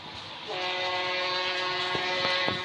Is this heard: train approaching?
yes